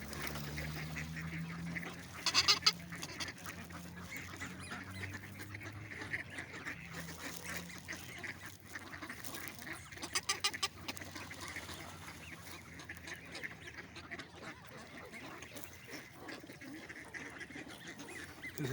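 Geese being fed honk in scattered, nasal calls, a couple of louder close bursts rising over a busy outdoor background of rustling and soft noise, with fainter honks and bird sounds further off.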